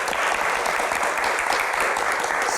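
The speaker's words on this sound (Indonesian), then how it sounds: "Baik, tepuk tangan." Steady, dense applause from an audience at a televised Indonesian Q&A event about justice, sustained at an even level throughout with no talk over it.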